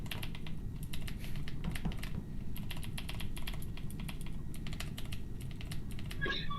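Clicky mechanical keyboard with blue switches, typed in steady, fast bursts close to the mic over a low background hum, with a short pause near the end.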